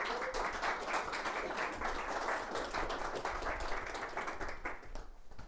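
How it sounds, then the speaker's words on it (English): An indoor audience at an evening nature talk breaks into sustained applause, a dense, steady wash of many hands clapping that carries on without a break and fades slightly at the end. "we would like to give them a big round of applause and welcome them"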